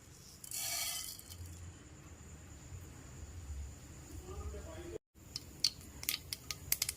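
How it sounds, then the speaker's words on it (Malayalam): Mustard seeds spluttering in hot coconut oil in a pan: faint, sparse pops and crackles that become sharper and more frequent in the final seconds, close by, after a quiet stretch of low kitchen noise. "കടുക് പൊട്ടിയിട്ടുണ്ട്."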